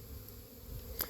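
A low, steady drone of bees hovering close by, with a faint higher whine and a brief brighter buzz near the end, heard alone with no talk.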